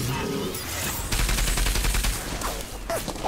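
A machine-gun robot turret in the video game Enslaved: Odyssey to the West fires a loud, rapid burst of rattling shots lasting about a second before it stops.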